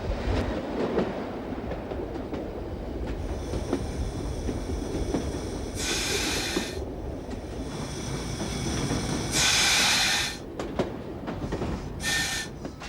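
A train running on a rural country branch line approaching a junction, heard as a continuous rolling rumble with rhythmic clickety-clack of wheels and several short bursts of high metallic squeal.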